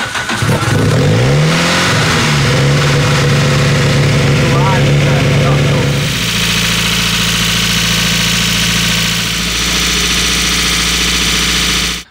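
A rebuilt Suzuki engine with a cut-down original crankcase catches, revs up loudly and settles into a rough, steady run close to the microphone, with voices talking over it at times.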